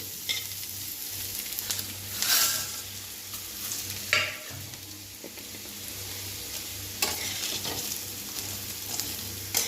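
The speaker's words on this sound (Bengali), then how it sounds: "এবার আমি নুডলসটা দিয়ে দেবো।" Noodles tossed and fried with browned onions in a pan, a continuous close sizzle broken by several scraping stirs of the spatula, with a low steady hum underneath.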